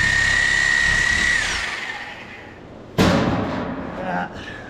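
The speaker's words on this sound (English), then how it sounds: "And I take the Sawzall." A Sawzall reciprocating saw cuts into a beef hind quarter propped off a table edge in a meat shop, a steady buzzing whine for the first seconds, then a loud sudden thump and gritty bone-cutting burst.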